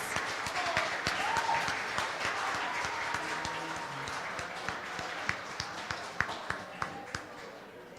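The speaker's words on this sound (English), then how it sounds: "Can we give them a round of applause?" An audience applauds at a 2023 event as judges walk back into the room, a dense, moderately distant wash of clapping that thins into a few scattered individual claps by the end.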